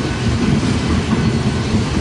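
A loaded freight train heading south passes close by in Fremont, Nebraska, a loud, steady low rumble of wheels and cars filling the clip with no talk.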